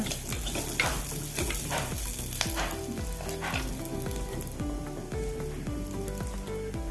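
Curry leaves crackle and sizzle in hot oil while being stirred in a pan for Kerala moru curry, a dense close frying hiss with a melodic tune playing underneath throughout.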